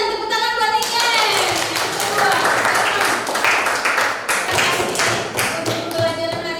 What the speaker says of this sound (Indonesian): Well done, tepuk tangan buat Ikan.